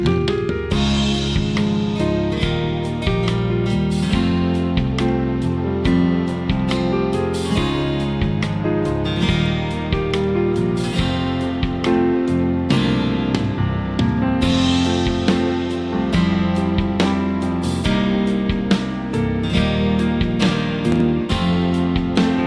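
Dense full-band composition with piano, drums, acoustic guitar, bass and string pads, heard through Sonarworks Sound ID Reference correction for headphones. Steady loud music plays throughout with no talking.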